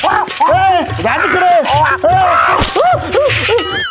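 In a Marathi village comedy skit, a man imitates a dog with a series of loud, rhythmic barking yelps in quick succession, close and continuous.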